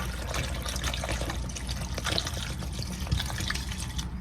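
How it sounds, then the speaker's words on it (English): A full bottle of water is poured into a crockpot while making green chili, a continuous splashing, gurgling stream that runs steadily from start to finish. "I'm using 1 full water bottle, and I'm going to add it in there"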